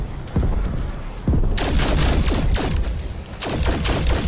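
Rapid gunfire, a continuous fusillade of sharp cracks in close succession, loud and near, with dense overlapping shots and brief lulls.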